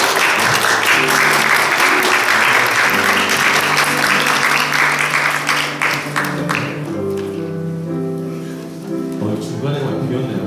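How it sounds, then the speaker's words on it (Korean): Church congregation applauding during a Sunday worship service, steady clapping from many hands with sustained organ or keyboard tones underneath and some talking mixed in, fading slightly toward the end. "박수를 좀 한번 주세요"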